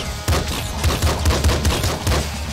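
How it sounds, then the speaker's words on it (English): Rapid bursts of video game gunfire from Nuclear Throne, a dense fusillade of about ten punchy shots at a steady, quick rhythm, loud and close with no talk. "shooting in Nuclear Throne"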